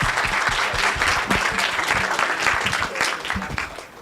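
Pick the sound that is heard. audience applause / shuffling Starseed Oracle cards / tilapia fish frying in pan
audience applause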